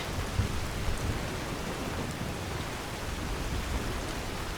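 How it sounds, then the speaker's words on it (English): Steady heavy rain with low rumbling thunder pours down inside the Skyrim video game, a continuous dense wash of noise with no voices. "God, this rain."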